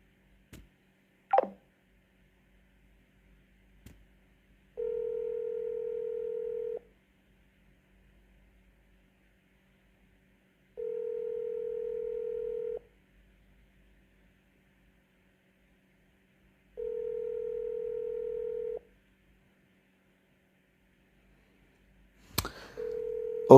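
A telephone ringback tone sounds on a call being placed again: a steady electronic tone pulses for about two seconds, then pauses for about four, repeating three and a half times against near silence, with a few faint clicks.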